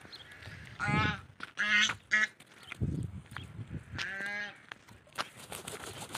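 Ducks sitting on a nest of eggs give loud, nasal quacks in short bursts, some calls close and harsh with quieter rustling and small sounds between them.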